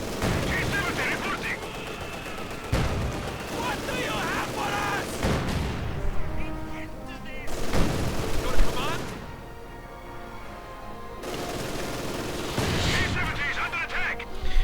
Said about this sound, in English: T-70 getting mortared by the looks of it.